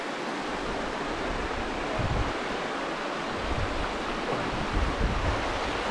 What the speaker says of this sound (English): Just the river flowing, just pure nature.